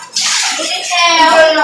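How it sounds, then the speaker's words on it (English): Water from a tap runs steadily into a bathtub, loud and close, with a slight tonal rise near the end as the tub fills, alone for most of the moment. "Turn off the water."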